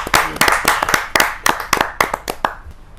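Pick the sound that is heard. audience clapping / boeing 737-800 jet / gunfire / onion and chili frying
audience clapping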